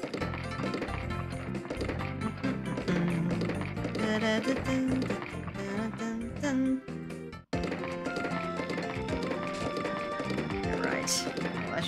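Horse galloping in the farming video game Harvest Moon: Tale of Two Towns, rapid rhythmic hoofbeats mixed into loud continuous game music, with a brief dropout partway through.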